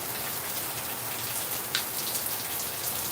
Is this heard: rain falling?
yes